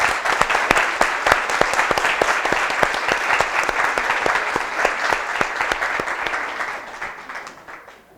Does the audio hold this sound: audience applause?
yes